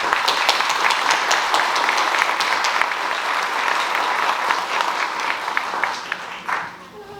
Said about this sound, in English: So if you could please give a nice round of applause.